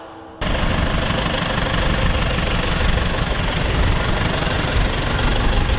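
A car engine drones low and steady while driving into a new parking garage in Kristiansand, rising abruptly after a quiet start and staying close and loud throughout.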